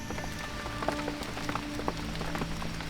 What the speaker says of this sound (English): The first rain in the Amazon rainforest during the rainy season took quite a while, but it has arrived.